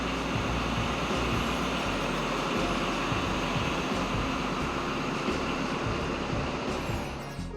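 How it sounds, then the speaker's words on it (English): Continuous rumble of an XPT passenger train travelling from Sydney to Melbourne, steady clatter and hum from inside or nearby, fading slightly at the end. "the train works its way out of the Sydney suburban network into some very beautiful country"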